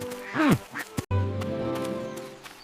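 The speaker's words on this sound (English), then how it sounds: "It looks like the ducks want to ask for something." Several nasal cartoon duck quacks ring out in quick succession, then a steady hum of outdoor background noise continues with a faint voice-like murmur.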